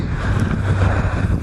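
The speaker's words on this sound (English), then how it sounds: "Man, the sun's come out, it's nice, but it's windy, I don't like it." Outdoor wind buffets the microphone with a loud, continuous low rumble and gusty roar that lasts the whole short stretch.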